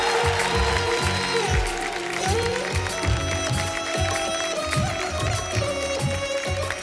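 A television show audience claps and cheers to welcome a Rajasthani singer, with dense, steady applause running throughout and music playing beneath it.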